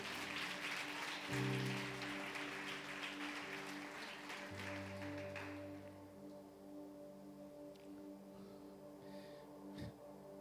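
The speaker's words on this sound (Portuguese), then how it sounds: "Você pode aplaudir o Senhor em nome de Jesus" A congregation at a church service applauds the Lord, the clapping strongest at first and then fading into a softer, distant patter while sustained organ or keyboard tones hold underneath.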